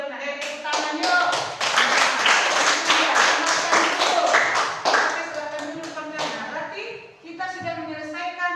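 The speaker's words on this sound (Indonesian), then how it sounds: "Tepuk tangan yuk." A class of children claps along in a classroom, a loud burst of rhythmic hand claps lasting several seconds before trailing off, with voices mixing in near the end.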